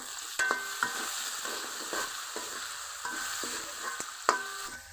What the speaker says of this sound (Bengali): লবণ দিয়ে আরো কিছুক্ষণ ভেজে নিব।